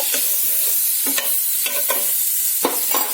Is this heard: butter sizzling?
yes